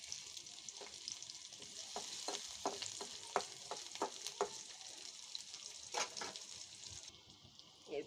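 Onion, garlic and dried red chilli sizzle quietly in a pan, an even frying hiss with a run of light stirring taps, easing off toward the end; no voices.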